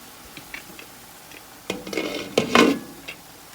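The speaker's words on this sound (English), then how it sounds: "I'm going to go ahead and get it out of the pan, and we're going to put it in a bowl" Broccolini scraped out of a pan into a bowl in a home kitchen, with a few light clinks and then a short burst of utensil scraping and metal-on-ceramic clatter, fairly close.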